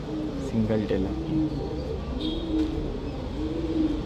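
Soft, repeated coos of old-line pigeons for sale in Bangalore roll along in the background while someone speaks over them.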